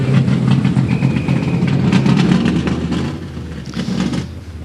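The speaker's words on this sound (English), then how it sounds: "Wow, that's a loud car" Historic racing cars at Goodwood Revival for the St Mary's Trophy, engines roaring loud and close with a rough, throbbing, rising-and-falling note that fades slightly near the end.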